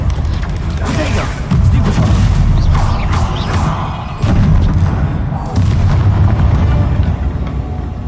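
A spell blast fired in the Hogwarts Legacy video game: loud, booming impacts in repeated bursts with crackling magical effects, punctuated by short gaps.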